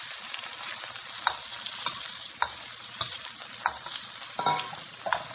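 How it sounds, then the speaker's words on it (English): Paneer or tofu fries in oil with a steady bright sizzle, close and fairly loud, broken by periodic scraping clicks of a utensil stirring the pan. "So I'm going to give this a nice fry here."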